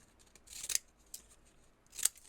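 Scissors snip through paper foxglove pictures while a junk journal is being made, with three quick crisp cuts close by, the last two strongest.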